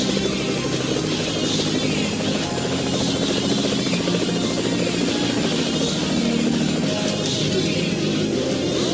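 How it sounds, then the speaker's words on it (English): A helicopter in the video game Saints Row The Third gives off a steady, dense rotor roar and buzz that stays loud and constant throughout, without any voices. "Where's that guy in the helicopter going?"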